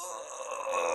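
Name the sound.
yawn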